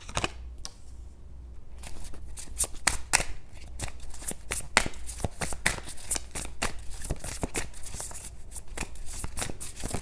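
Tarot cards are shuffled and drawn by hand, a steady close flutter of crisp riffles and slaps running throughout, with brief pauses and no talking.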